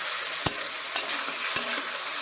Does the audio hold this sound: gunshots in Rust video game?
no